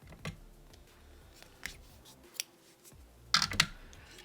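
Scissors snip through the yarn tail of a chunky crochet beanie, a few soft clicks followed by two sharp, close cuts near the end, with no talking.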